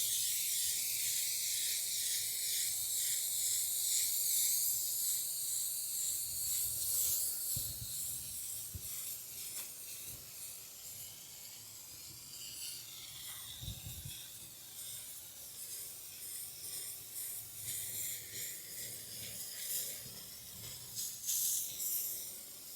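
A hose sprays water onto the coils of an outdoor AC condenser, producing a steady, close hiss that shifts in tone as the spray moves along the sides, with light spattering throughout.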